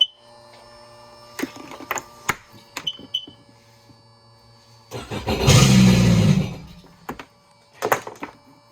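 A Sea-Doo Spark bilge pump runs as a steady faint whine behind scattered clunks and taps, with a louder whooshing surge of water midway before the clatter resumes.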